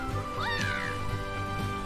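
A cat meows once with a rising then falling cry, heard over a steady game soundtrack and background hum during a Mario Golf: Super Rush session.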